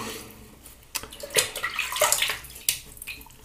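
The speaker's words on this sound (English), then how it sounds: "let me wet my face and put some water on the brush" Tap water runs and splashes in uneven bursts while a face and a shaving brush are wetted before shaving with a safety razor, close and moderately loud, with brief louder splashes and no speech.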